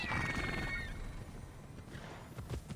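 A horse in the video game Immortals Fenyx Rising gives a high, fading whinny at the start, followed by soft hoof clops and ambient game noise.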